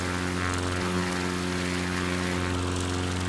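A propeller airplane engine in Microsoft Flight Simulator 2020 drones steadily and loudly, a constant buzzing hum with no talk over it.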